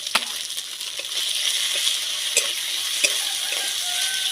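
Chopped tomatoes fry in a pan for a Bangladeshi rupchanda fish broth, giving a steady close sizzle with occasional soft clicks and scrapes of stirring.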